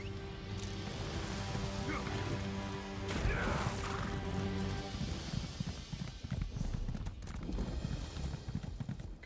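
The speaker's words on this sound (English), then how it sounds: "Let's go on my horsey." Horse hooves clip-clop steadily while riding in an Elder Scrolls video game, close and fairly loud over game sounds and a brief crash, with a voice talking intermittently.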